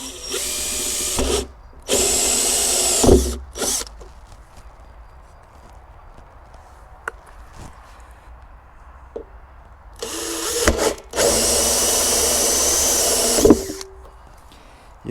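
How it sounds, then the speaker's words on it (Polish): A power drill boring holes with a 25 mm bit into water barrels for a garden, loud whining bursts of a few seconds each separated by quieter pauses and knocks, close up, the longest bursts near the end. "Wszystko to jest wiercone tym samym wiertłem 25 mm."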